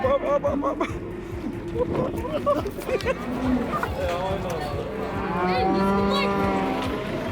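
Cattle mooing at a busy livestock market in Kyrgyzstan, several long, loud lowing calls from nearby animals rising over a constant din of crowd chatter and movement.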